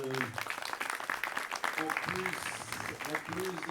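Audience applause for a municipal councillor at a Pokémon-themed charity cheque presentation ceremony, a steady wash of clapping kept fairly quiet while voices talk over it throughout.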